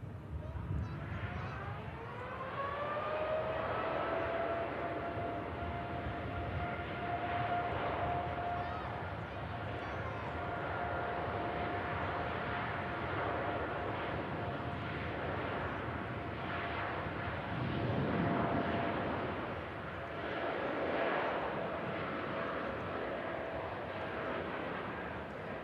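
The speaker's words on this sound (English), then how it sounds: "Off goes the TUI Dreamliner." A TUI Boeing 787 Dreamliner takes off at Manchester Airport on a hot day, its engine roar building into a steady, loud whine with a sustained tone that holds throughout, while people chat nearby.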